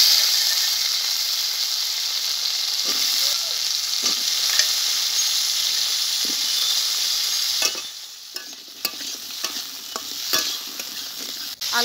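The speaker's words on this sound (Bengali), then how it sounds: "মাছ ভাজা তেলের ভিতরে আমি আলুটাকে ভেজে নেব" Potatoes frying in oil left over from frying fish, a loud, continuous sizzle up close, broken in the second half by scraping and knocking stirs of a spatula in the pan.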